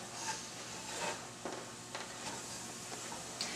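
Flour and butter cooking in a pot as the base for cream of crab soup, a soft steady sizzle with faint occasional stirring scrapes, close and quiet throughout.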